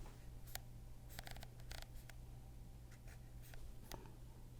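A camera lens aperture ring clicks from f22 to A, a run of small sharp ticks in clusters over a faint steady hum, close and quiet, with no voices.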